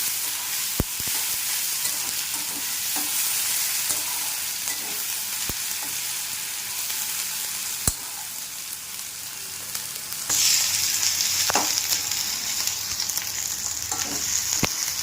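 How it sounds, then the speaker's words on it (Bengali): Chopped onions fry in a pan until turning reddish, giving a steady close sizzle and hiss with occasional sharp stirring clicks; the sizzle swells noticeably louder partway through. "এটিকে ভাজতে থাকবো যতক্ষণ না ভাজে লাল লাল করে ভাজা হচ্ছে"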